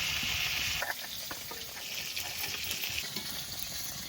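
Pieces of fresh pond fish fry in hot oil in a home kitchen, a bright crackling sizzle that is loudest at first and then settles into a softer, steady bubbling.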